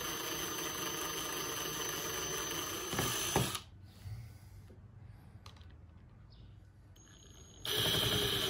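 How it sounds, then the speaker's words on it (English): A drill boring holes into a plexiglass arcade bezel, heard as a loud, steady whirring whine that breaks off, leaving a quiet stretch of small handling noises, then returns at full strength near the end. "And then you have your holes drilled."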